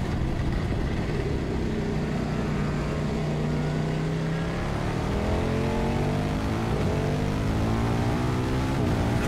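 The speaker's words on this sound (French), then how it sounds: "Je peux accélérer encore tellement plus fort." A KTM 1190 RC8 R sport motorcycle accelerating hard on a race circuit, engine pitch climbing steadily through the gears, loud and close under rushing wind noise.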